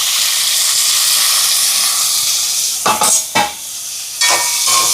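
Green chillies, curry leaves and chopped shallots fry in hot oil with a steady loud sizzle, broken by a few sharp bursts of stirring and clatter in the pan.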